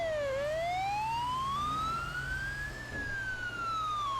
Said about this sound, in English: even if they're fire engine sirens